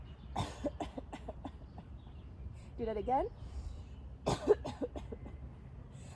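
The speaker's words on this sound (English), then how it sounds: "this time, cough when you exhale. Really just go for it, cough." A few short coughs on exhale burst out near 4.3 seconds during a yoga practice, following spoken instructions and a brief sung or hummed phrase, all indoors at moderate volume.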